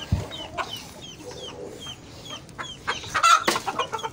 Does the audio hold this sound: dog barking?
no